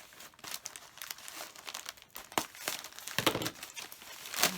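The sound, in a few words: Creative Notions plastic bag being cut open and unwrapped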